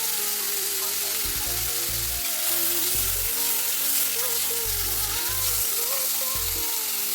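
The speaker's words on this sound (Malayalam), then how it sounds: "നമുക്ക് നന്നായിട്ടൊന്ന് ഇളക്കി കൊടുക്കാം" Cutlet filling sizzles loudly and steadily in a pan while being stirred, with background music playing underneath.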